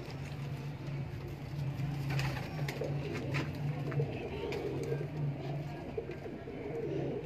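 Female Mian Sahib pigeons coo in a steady, droning pulse, the repeated low notes running throughout alongside faint background rustles and occasional clicks.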